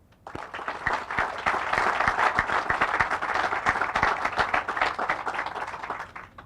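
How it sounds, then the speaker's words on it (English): A crowd at a sheriff's station groundbreaking ceremony claps for over six seconds, the applause rising quickly to a full, steady roar of many hands with some sharp individual claps standing out, then tapering at the end. "One more round of applause."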